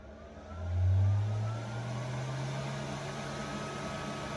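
Honda Talon 1000R/1000X UTV running after the key is turned, a low mechanical hum that swells briefly near the start and then settles into a steady, moderately faint drone.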